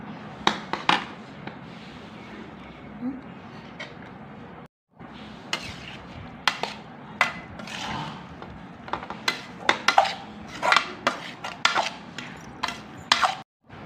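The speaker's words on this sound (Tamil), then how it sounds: "சாதம் போட்டு கிளறிக்கலாம்" Cooked rice being stirred into a thick ground paste in a pan, a spoon scraping and clinking against the metal in irregular close taps and scrapes, with one short silent gap partway through.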